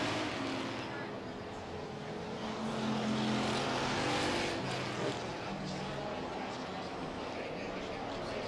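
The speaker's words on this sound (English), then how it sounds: "You see Tunis's car just about on rails" Street stock race car driving around an oval track during a heat, a steady distant engine drone and tire roar that swells slightly midway, heard under a race announcer's commentary.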